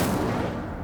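Incendio fire spell cast in Hogwarts Legacy, a short, dense whooshing roar of flame that fills the moment and fades slightly toward the end, with no voice over it.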